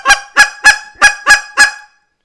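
Six short, loud honking clucks from a goose call come in an even, quick rhythm, close up and alone, each a sharp nasal burst, before the sound stops abruptly.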